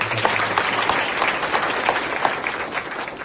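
A crowd at a political party meeting in Wazirganj, Bihar, greets a party official with a burst of hearty applause, loud and sustained, then gradually easing off.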